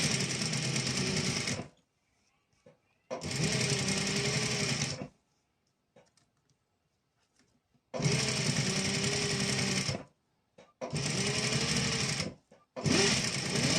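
An electric sewing machine stitches boot piping onto a neckline in four loud, steady bursts of rapid whirring, each a second or two long, separated by quiet pauses with faint handling of fabric.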